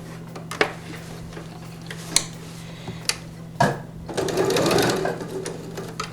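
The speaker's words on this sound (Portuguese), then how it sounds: "Vou fazer essa mesma costura dos dois lados." A sewing machine stitching a fabric oven-door cover, a few ticks and clicks before a run of fast, steady close-up stitching over a low hum.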